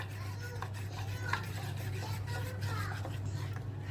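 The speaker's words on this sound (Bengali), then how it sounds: "ভালোভাবে একটু সময় নিয়ে মিক্স করতে হবে যেন কোনো দানাদার না থাকে।" Batter for pumpkin fritters being stirred in a bowl: soft, continuous scraping and swishing strokes, faint and close, over a steady low background hum.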